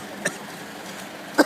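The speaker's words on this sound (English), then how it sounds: "Start coughing." Two short, separate coughs about a second apart, each a brief dry burst over a quiet room background, with no talking.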